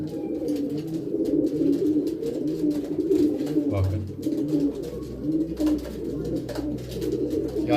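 A male racing pigeon courting a female gives repeated low, throaty coos close by, rolling in a steady rhythm, while someone talks over them.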